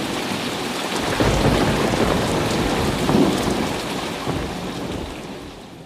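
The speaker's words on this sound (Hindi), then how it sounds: "उनके जाते ही आसमान में काले बादल छा गए और मूसलाधार बारिश" A heavy downpour drums as a story sound effect, the dense hiss of rain swelling with low rolling thunder, steady and close throughout with no voices.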